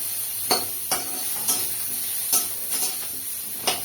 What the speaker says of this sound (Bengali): এবার পেঁয়াজটা একটু ভাজি ভাজি হলে, ব্রাউন ব্রাউন কালার হলেই আমি মশলাটা দিয়ে দেবো